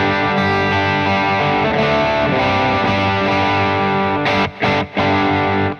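Electric guitar played through a guitar amp with a drive pedal such as an EP booster, set to relatively low gain; a steady, loud overdriven tone sustains alone, with two brief dropouts near the end.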